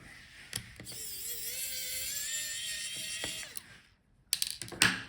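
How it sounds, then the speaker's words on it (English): A screw is driven out of the Wi-Fi card inside an HP Envy x360 15 laptop: a close, whining mechanical spin lasts about three seconds, then sharp clicks and handling taps follow after a brief silence. "Now take out the screw on the top."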